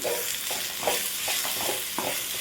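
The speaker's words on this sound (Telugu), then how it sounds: "ఇప్పుడు ఒకసారి కలుపుకోవాలి" Raw banana curry being stirred with salt and chili powder in a pan, a steady sizzle broken by repeated scraping strokes of a spoon, close and alone with no talk.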